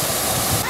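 Waterfall cascading into a resort pool in Orlando, a loud, dense rush of splashing water that fills the short moment on its own.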